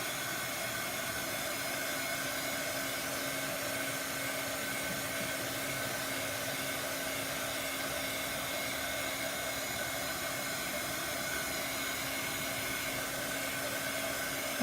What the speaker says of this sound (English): We're going to dry it really well.